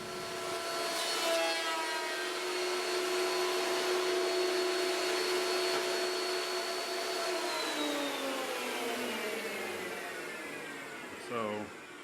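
A power planer or similar tool drones steadily while surfacing the back of a tenor guitar flush with outriggers, a loud whining motor with tonal harmonics that winds down near the end.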